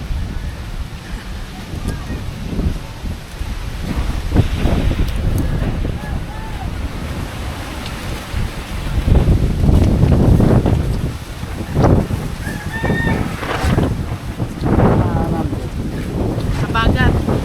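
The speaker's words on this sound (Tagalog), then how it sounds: "Habagat. Lakas ng hangin." Strong habagat monsoon wind buffets the microphone at the seaside, with waves and surf rumbling beneath in gusty surges that grow louder toward the middle, and a voice speaks briefly amid the roar.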